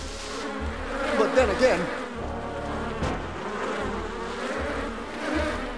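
A cartoon swarm of bees buzzes steadily through the scene, a dense droning hum that swells briefly and stays loud under a short spoken line.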